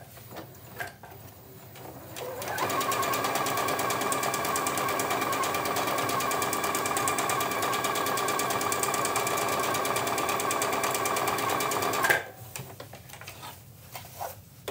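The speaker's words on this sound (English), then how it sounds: "I've switched to another stitch, which is stitch number 71, and I'm going to sew that 2 more times" A sewing machine runs decorative stitch number 71 in one loud, steady run of about ten seconds, with a rapid even needle chatter that starts and stops abruptly, surrounded by quieter handling noise.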